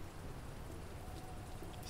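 Rain falls steadily in the video game Mr. Prepper, a soft even patter and hiss that stays constant without voices.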